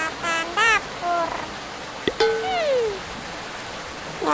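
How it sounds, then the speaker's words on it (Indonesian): Steady rain hisses in the Sakura School Simulator video game under loud speaking voices that come in short bursts. "Duh, hujannya makin deras lagi."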